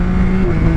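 Yamaha Tracer 9 GT motorcycle engine pulling in fourth gear from around 3000 rpm, a loud, close, steady droning growl with strong low tones throughout the brief moment.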